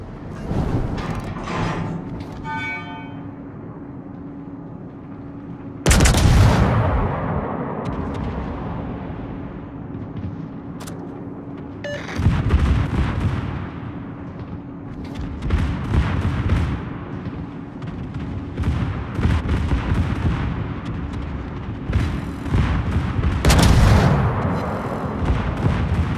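Heavy naval guns in a battleship video game fire in repeated loud booming blasts at an enemy destroyer, each blast rolling out over a steady low engine rumble, with several close, powerful detonations spaced across the scene.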